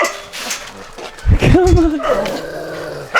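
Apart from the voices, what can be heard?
dogs barking and growling while fence fighting at a shelter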